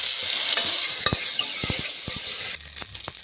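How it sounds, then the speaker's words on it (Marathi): Cumin seeds and a bay leaf sizzle in hot homemade ghee, a steady bright frying hiss punctuated by several sharp spatula clinks and stirring scrapes against the pot, with no talking. "आपले साजूक तूप आता गरम झालेले आहे, त्यामध्ये आपण जिरे घालणार आहे।"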